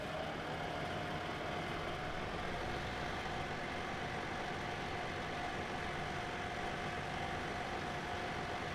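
Tractor with dual wheels running a grass chopper in the video game Farming Simulator 17, a steady, droning engine and machinery hum holding at an even level throughout, with no talk.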